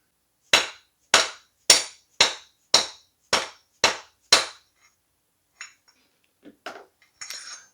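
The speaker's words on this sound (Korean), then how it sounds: "망치로 때리는 거예요." A hammer strikes a pipe tool to seat a bicycle headset crown race, eight sharp metallic blows in a steady rhythm, close and loud, followed by a few faint clinks and taps.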